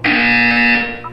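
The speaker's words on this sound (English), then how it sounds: "You will hear a buzzer. When you hear the buzzer, look down at the floor." Buzzer from the video game Portal 2, a loud, steady electronic tone lasting about a second before cutting off, alone with no speech.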